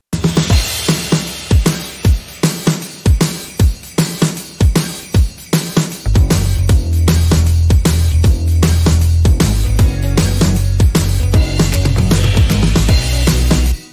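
Drums in a modern Christmas pop production start with punchy hits and fills, then swell into a dense, loud wash of sustained orchestral hits and rising cymbals with a heavy low end.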